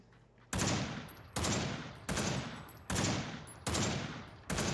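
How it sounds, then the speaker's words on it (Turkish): Loud gunshots ring out in the PUBG video game, six heavy evenly spaced blasts, each with a long fading tail, close up with no talk. "Mənə güllə atır"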